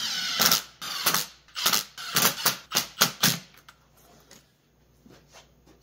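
Bolts on a 4L60E transmission output tail shaft are snugged up during a 4x4-to-2wd conversion, giving a run of about eight quick, sharp ratchet bursts in steady rhythm, close and fairly loud, then trailing off into faint clicks.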